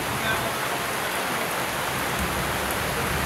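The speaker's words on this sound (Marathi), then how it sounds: "पण पाऊस मोठा आला आता" Heavy rain pours steadily and loudly throughout at an outdoor gathering, a dense even hiss with no pauses.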